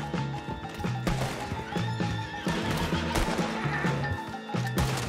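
A horse neighs loudly amid a busy, dense scene with thudding hooves and crashing noise, no talk.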